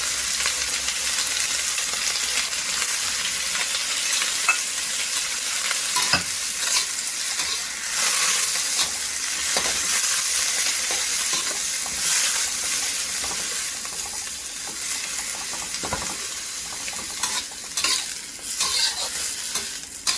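Kale stir-fried over high flame with canned fish and its liquid in a pan, a steady loud sizzle and hiss with occasional spatula scrapes, close up and continuous, no voices.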